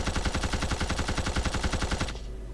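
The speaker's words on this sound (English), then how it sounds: "It's not a machine gun, it's a repeater arm cannon." A repeater arm cannon fires a rapid, evenly spaced burst in the video game Blood Will Tell, loud and close like machine-gun fire, cutting off abruptly after about two seconds.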